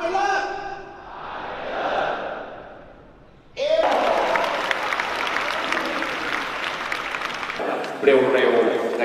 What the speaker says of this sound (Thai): เสียงปรบมือดังๆเป็นการขอบคุณ